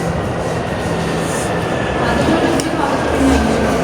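A metro train moves through a Tehran subway station with a continuous rumbling roar, faint squeals and clatter, loud and close throughout, with people talking faintly in the background.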